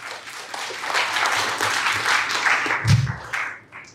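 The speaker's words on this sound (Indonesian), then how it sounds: "Tepuk tangan untuk kalian." Students at a leadership training session at a Jakarta madrasah get a round of applause, a moderate, continuous patter of clapping with crowd murmur throughout.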